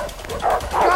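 Dogs chasing in the co-op video game A Way Out, two loud, close, yelping barks in quick succession.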